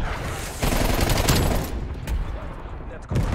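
Artillery strike in Black Ops Cold War landing as a dense burst of overlapping blasts and crackling gunfire. It is loud and close, a heavy rumble that builds then trails off, with a fresh impact near the end.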